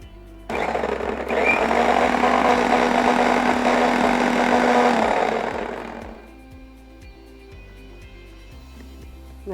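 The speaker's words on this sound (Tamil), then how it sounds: "நல்லா அரைச்சாச்சு." Electric mixer grinder blending lassi with honey and a little ginger, a loud steady whirring motor that runs for several seconds and then winds down to a quiet hum.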